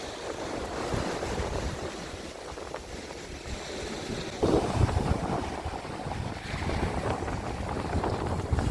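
Sea waves wash onto Langeron beach in Odesa at dawn, a continuous broad surf rush with a louder surge midway, mixed with wind buffeting the microphone.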